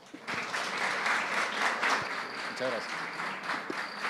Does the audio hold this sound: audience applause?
yes